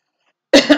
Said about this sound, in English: I can't stop coughing here.